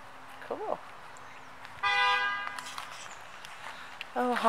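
A car horn gives one sustained honk mid-clip, with a voice speaking briefly before and after.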